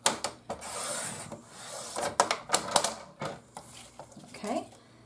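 A sublimation print trimmed along its black lines, giving close, uneven bursts of cutting and rubbing strokes with sharp clicks between them, alone with no voice.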